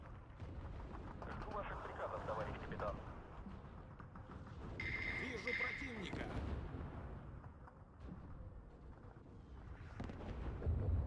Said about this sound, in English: I think that's mortaring the Bunker Maxim, but is accidentally hitting my F-22.